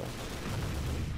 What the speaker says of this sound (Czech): Proč tady střílí furt?